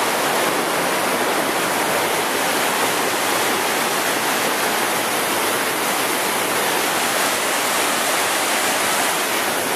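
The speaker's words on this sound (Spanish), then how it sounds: "El oleaje." Ocean waves surge in a constant, loud, broadband roar of rushing water with no distinct breaks between swells, heard up close without voices.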